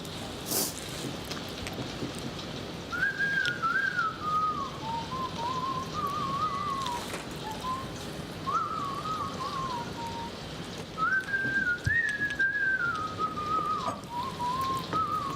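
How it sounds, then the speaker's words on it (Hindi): A person whistles a wavering, melodic tune in two long phrases with a short gap between them, clear and fairly close over a steady background hiss. "इतनी अच्छी सीटी बजाते हैं आप।"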